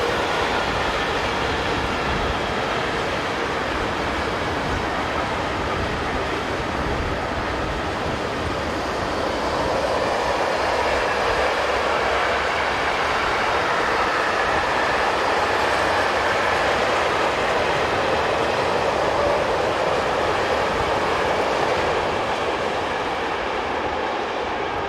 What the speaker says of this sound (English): BB 7355 heads a Saint-Clair-les-Roches to Lyon-Ciblin tank train.